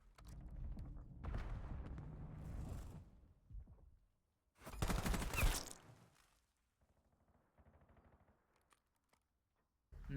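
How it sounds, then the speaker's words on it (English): Gunfire in a competitive video game match, with dense bursts of rapid automatic shots coming in loud clusters separated by quieter stretches and scattered game sounds, with no talking. "He's shot in the back by BT"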